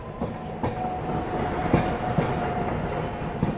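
Jhelum Express, running from Shri Mata Vaishno Devi Katra to Pune, pulls away after its halt with a steady rolling rumble, soft wheel clatter on the rails and a faint high squeal running through it, heard fairly close.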